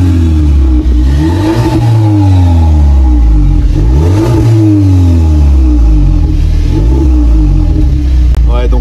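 A warm Volkswagen Polo GTI with a stock exhaust revs repeatedly, rising and falling in pitch with a steady, moderately throaty exhaust note, loud and close, no one speaking.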